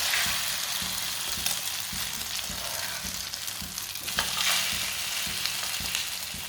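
Bread breakfast frying in oil in a pan, a steady close sizzle with soft crackle and occasional stirring clinks running throughout, no voices.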